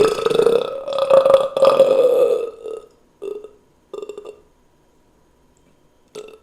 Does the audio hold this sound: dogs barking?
no